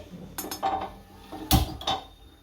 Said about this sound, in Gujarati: તો આપણે એને તવલું મૂક્યું છે